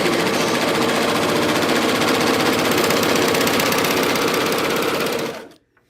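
A Bernette B68 air-threaded serger sews a 5/8-inch seam, a loud, fast, rattling hum that runs continuously at close range before stopping abruptly near the end.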